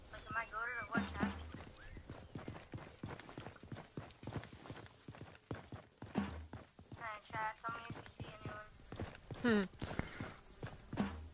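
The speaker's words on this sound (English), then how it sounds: "I hear a horse to my left somewhere." Horse hooves clip-clop in the video game Realm Royale, a steady string of soft hoof knocks running under near-continuous talking from a player.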